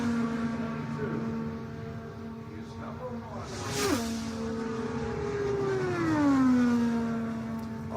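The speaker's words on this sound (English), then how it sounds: "And now Dixon, green flag and on the clock for his 4-lap trip around the Brickyard" Honda-powered IndyCar race car lapping Indianapolis Motor Speedway during 2018 Indy 500 qualifying, a high engine note that rises and falls as it passes, with a sharp pitch drop midway and a later swoop downward, moderately distant.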